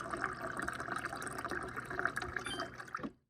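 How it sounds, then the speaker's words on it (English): Water pours steadily from a KitchenAid five-door refrigerator's dispenser into a glass, a continuous close splashing fill lasting about three seconds before cutting off abruptly. "It just dispenses it straight into your glass."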